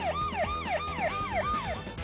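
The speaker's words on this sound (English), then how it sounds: "the siren that sounds in the movie is a modern electrical siren" Modern electronic ambulance siren in an animated film, a loud wailing tone sweeping up and down about four times in two seconds, close and alone without talk.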